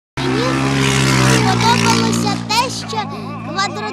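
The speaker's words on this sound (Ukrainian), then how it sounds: "мотоцикли їздять по бездорожжі і дуже гарчать" Off-road motorcycles roar at a quad bike race in Kirovohrad region, Ukraine, a loud, continuous engine drone with revving swells near the end; faint voices seem mixed in beneath.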